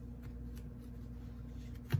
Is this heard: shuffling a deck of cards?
yes